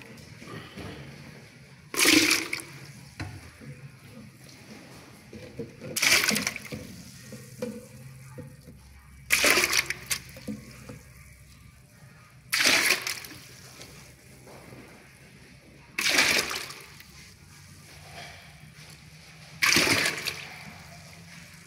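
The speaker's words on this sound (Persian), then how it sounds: "بذار آبش زیاده برداریم" Excess water poured off a jar of red cabbage and cauliflower pickle in several separate splashing bursts, each a few seconds apart, close by, with quieter handling sounds between.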